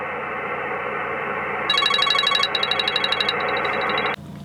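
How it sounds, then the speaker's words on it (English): A phone call rings over HF radio in repeated electronic trills over a steady hiss of radio static, ending abruptly as the noise drops. "Now it's going to be ringing."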